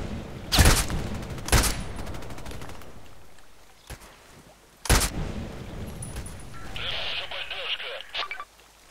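Sniper rifle shots ring out in the online shooter game Contract Wars: three sharp, loud cracks spaced a few seconds apart, each with a short tail, followed by faint electronic game sounds.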